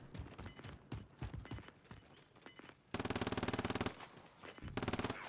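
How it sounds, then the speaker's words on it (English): Rapid automatic gunfire from a Call of Duty: Modern Warfare match, with bursts of shots early on, then two long, loud, evenly spaced sustained sprays close by. "There's a bunch of other dudes shooting at him."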